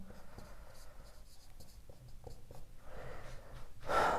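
Chalk or marker writing on a board during a maths lesson, with soft scratchy strokes in short bursts, fairly close and quiet, with no talk.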